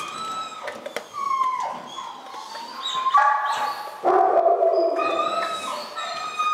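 A dog in obedience training barks, howls and whines in a string of uneven bursts, close and fairly loud, with sharp yips breaking through longer drawn-out cries and no speech.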